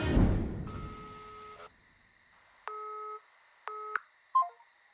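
Electronic phone tones sound alone: a long sustained multi-tone beep, then two shorter beeps with gaps between them, and a brief chirp near the end.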